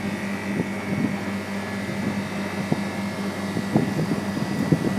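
A Bristol refrigeration compressor runs steadily ahead of its pump-down cycle, giving a continuous close mechanical drone with a low hum and faint intermittent knocks and ticks layered over it.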